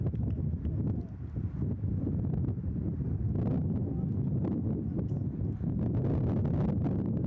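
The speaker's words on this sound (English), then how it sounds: "The righty-righty matchup, wind blowing out to left field, gusting once again." Gusty wind buffets the microphone at an outdoor college baseball game, a steady low roaring rumble that swells and dips across the whole stretch with no voices over it.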